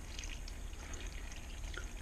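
Tap water poured into a crock pot for corned beef and cabbage, a soft continuous splashing trickle, faint and steady with no voices.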